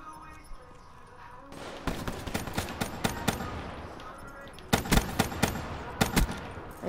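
Rapid bursts of gunfire from the Shiva weapon in Black Ops 3 zombies gameplay, loud repeated shots in clusters with brief pauses between volleys.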